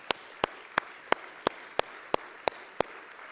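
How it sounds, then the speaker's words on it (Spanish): A church congregation claps in a steady rhythmic beat, about ten evenly spaced sharp claps roughly three per second over a faint background of many hands, fairly quiet overall. "Eso merece un fuerte aplauso al Señor"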